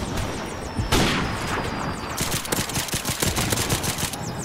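Pistol gunfire in a video game: a quick run of sharp shots followed by a dense stretch of rapid, evenly spaced bursts, moderately loud with no talking.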